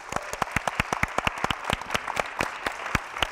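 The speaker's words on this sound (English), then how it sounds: "Let's give them a round of applause." A short round of applause from a small audience, with distinct individual claps sounding close and crisp, no speech over them.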